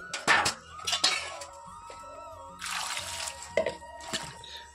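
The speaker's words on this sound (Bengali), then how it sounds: "কড়াইটা আর সবজিটা ধুয়ে নিব" A wok and vegetables being washed under running water, with sharp metallic clatters and knocks of the pan, dripping splashes and a brief stretch of steady tap flow, all close by.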